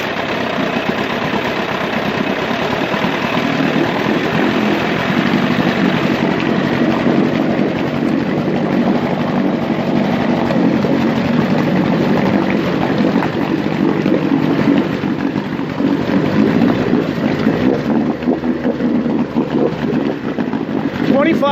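An Evinrude 9.5 HP Sportwin outboard boat motor, restored from a scrapyard, runs steadily at a loud, close idle, its even mechanical drone continuing throughout with a slight change near the end.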